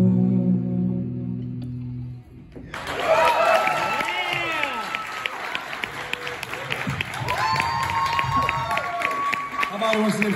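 A crowd bursts into applause and cheering after a live band performance, the clapping starting abruptly and staying dense and loud for several seconds, with scattered whoops and voices mixed in.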